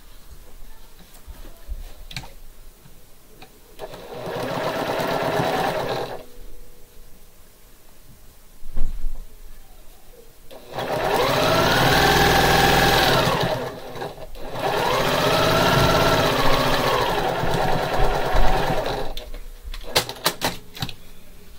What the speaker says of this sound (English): let's go ahead and sew these rows together.